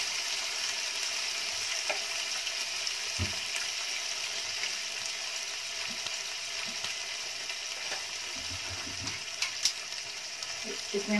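Chopped tomatoes, green chili and ginger fry in a pan with a steady, close hiss and occasional stirring scrapes. No one speaks.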